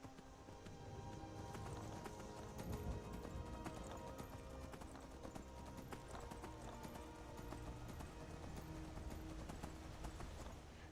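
A horse gallops in the video game Skyrim Anniversary Edition, rapid rhythmic hoofbeats that stay steady and fairly quiet for about ten seconds, with game sounds and noise running underneath.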